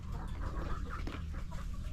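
Chickens clucking softly nearby, a few low murmuring calls over a rumbling background, no clear speech.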